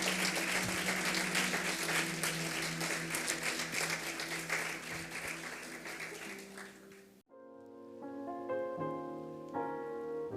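A church congregation applauds at a service, with dense, steady clapping for about seven seconds before it stops abruptly and music takes over.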